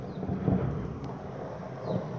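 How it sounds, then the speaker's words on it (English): Thunder rolls through a heavy rainstorm in Beechdale, a steady, dense rumble with the downpour hissing continuously and no talk over it. "that was thunder."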